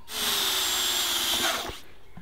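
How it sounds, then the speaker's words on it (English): A super sharp power drill bores through brittle plastic, a loud steady high whine for about a second and a half that cuts off abruptly, leaving a faint room tail. "Especially if you've got a super sharp drill like mine."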